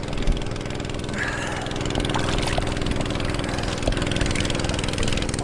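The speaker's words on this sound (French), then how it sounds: "Il y a un copain avec son bateau qui passe." A motorboat engine drones steadily nearby on a river in Bagan, Myanmar, a continuous loud hum that swells slightly as it passes, with no talking.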